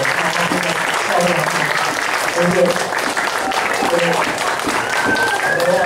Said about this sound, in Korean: 박수 쳐서 나와야 돼요